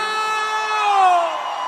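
A concert crowd at a show lets out a loud, sustained collective shout whose pitch slowly falls, filling the whole moment with no separate talk.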